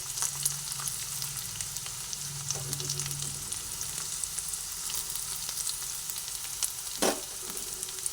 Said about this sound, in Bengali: পেঁয়াজ আর আদা একসঙ্গে সেই সময় আমি এর মধ্যে এক এক করে যে আলুটা সেদ্ধ করে রেখেছিলাম সেই আলু দিয়ে দিচ্ছি